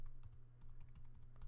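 Fingers tap out a name on a computer keyboard, a quick close run of light clicking keystrokes in an irregular rhythm over a low electrical hum.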